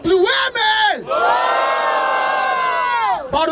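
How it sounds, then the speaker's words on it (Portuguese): A crowd at a Brazilian rap battle (Batalha da Aldeia, Barueri, SP) roars with loud, sustained cheering and high whooping shouts. The shouting rises and falls for several seconds and fills the whole span. "Barulho para as rimas do Cas!"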